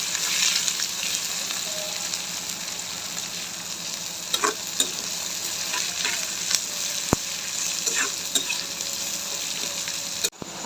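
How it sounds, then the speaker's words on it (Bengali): Chopped onions and peanuts fry in hot oil for potato chops, a dense continuous sizzle with occasional scraping stirs and clicks of a spatula, close and steady throughout. "এবার আমি পেঁয়াজ কুচি দিয়ে দেবো।"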